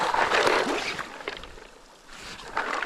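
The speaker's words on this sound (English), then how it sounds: "Rinse some off, get all the sand off." Blue mussel shells are rinsed in seawater on the Maine coast, with bursts of sloshing and swishing water and a clatter of shells, close and moderately loud, easing off in the middle.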